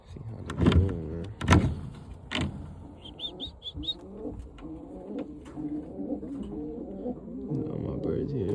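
Birmingham roller pigeons in their loft coo softly at close range, with a short run of high chirps partway through, while someone talks over them at the start and a low background hum runs throughout.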